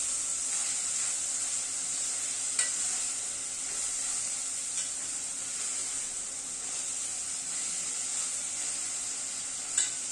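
Onion and tomato sauté in a pan for a dhaba-style veg Kolhapuri, producing a steady, moderate hissing sizzle that runs throughout with a few faint utensil taps.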